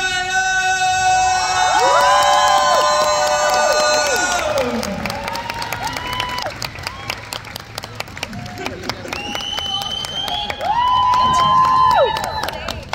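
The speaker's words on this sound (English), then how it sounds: "you can let it all out in a big scream of enthusiasm and embracement" A large convention crowd screams and cheers for actress Kat Graham, with high shrieks, whoops and applause rising and falling in waves, loud and close, with a voice speaking over the noise.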